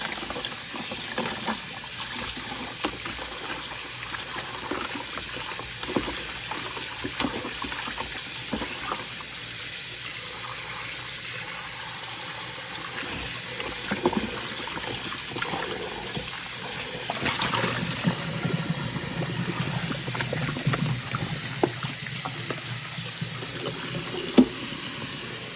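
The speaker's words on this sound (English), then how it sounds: "and now I'm going to use some more cold water." Cold water runs steadily from a kitchen sink tap into the basin while raw chicken is being rinsed, a continuous hiss with soft splashing and a few small knocks, alone without talk.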